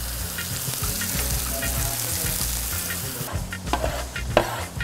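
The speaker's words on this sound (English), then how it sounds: "Who knew that the hardest part would be just getting the bacon cooked?" Bacon sizzles and spits steadily in a hot pan, close up, with a few clinks and stirring scrapes near the end and no one talking.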